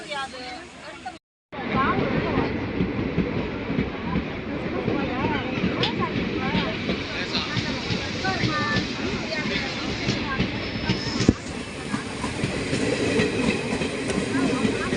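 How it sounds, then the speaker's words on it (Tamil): The Sengottai–Mayiladuthurai express train rumbles steadily along the tracks with continuous clattering and rushing noise, loud and close, with some voices faintly mixed in. "செங்கோட்டை மயிலாடுதுறை செங்கோட்டை எக்ஸ்பிரஸ்"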